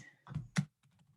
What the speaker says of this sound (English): I'm just frantically typing.